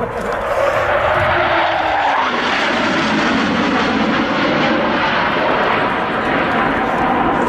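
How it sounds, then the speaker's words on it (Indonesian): A loud, roaring jet engine sound from a toy fighter jet, with a shifting whoosh, holding close and steady throughout. "Wow, pesawat jet,"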